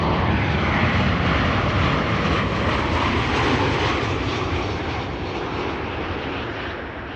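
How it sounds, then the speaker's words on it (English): A KLM airliner on Flight 1138 arrives at Amsterdam Schiphol Airport, its engines producing a loud, continuous roar that fades slightly toward the end, with no voices. "This has been KLM Flight 1138 arriving"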